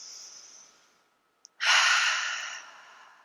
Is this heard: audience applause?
no